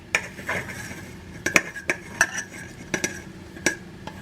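Ginger, green chili, garlic and cumin being pounded and mashed in a mortar, a series of sharp, irregular knocks and clinks, close and fairly loud, with faint scraping between strikes.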